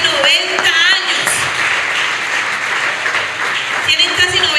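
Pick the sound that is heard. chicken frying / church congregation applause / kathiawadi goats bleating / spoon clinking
church congregation applause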